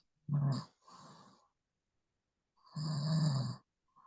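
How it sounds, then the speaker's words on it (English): Snoring from a sleeping person or a dog, two bursts of low, rasping breaths with a pause between them, close and fairly loud with nothing else around. "The person is sleeping and snoring. Either a person or it's a dog."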